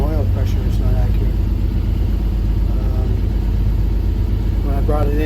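A boat's engine idles at about 465 RPM with a steady, low rumbling drone throughout, while someone talks over it nearby.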